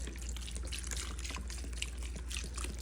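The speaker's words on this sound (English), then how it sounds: "Now let's get this broth. And let's just put her all up in there." Birria broth poured into a pot, a steady liquid splashing and trickling sound under a low hum, brief and close with no voices.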